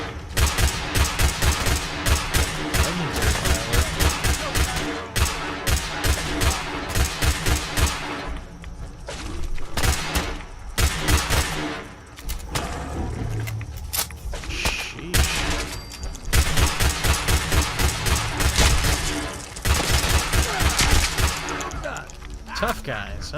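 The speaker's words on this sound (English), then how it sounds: "Let's get this weapon out and start shooting." Rapid, loud bursts of gunfire from Fallout 4's Far Harbor come in dense rhythmic volleys, pause briefly mid-way, then resume, with a voice talking over parts of the shooting.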